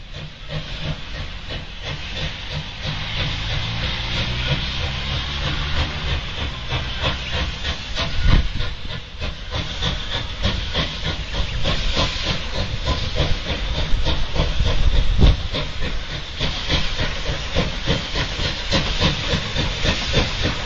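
A steam train in Australia hissing steam loudly and continuously for about twenty seconds, a dense, close roar of venting with a brief louder surge partway through, and no voices.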